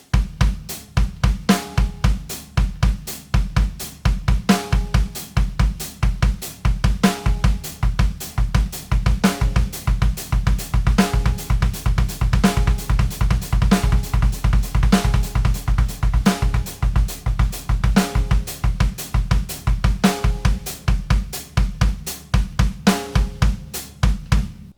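Drum kit playing a triplet groove, with rapid, dense bass drum triplets and a halftime backbeat landing steadily on top, loud and close throughout with no talking.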